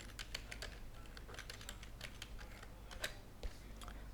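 Fast, continuous typing on a computer keyboard, with a dense run of close, quiet key clicks and a couple of slightly louder strokes, no voices.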